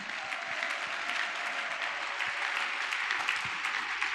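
A church congregation at a Sunday service applauding to acclaim the Lord, steady sustained clapping from many hands throughout, moderately distant and even, with no speech over it.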